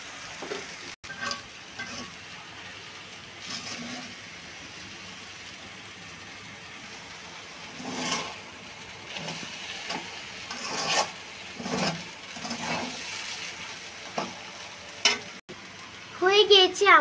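Noodles with spices and pre-boiled carrots and potatoes frying in a pan, a steady sizzle with intermittent scraping stir strokes and a louder clatter near the end, with occasional speech.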